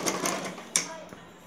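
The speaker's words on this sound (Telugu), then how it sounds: "ఈ మిడిల్లో స్టిచ్ చేసుకుందాం." A sewing machine stitches blouse fabric in a short, close, rapid mechanical burst with a few sharp clicks, then trails off.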